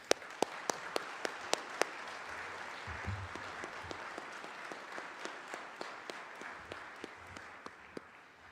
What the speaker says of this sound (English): if you could please help us with a round of applause for the 338th Army Band behind us